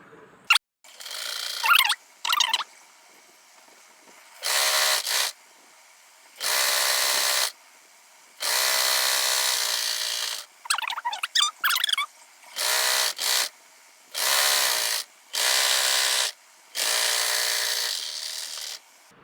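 A sewing machine runs in short bursts of stitching, topstitching piping onto a cloth sleeve, with quiet pauses and faint handling of the fabric between runs.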